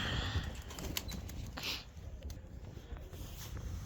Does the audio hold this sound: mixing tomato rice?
no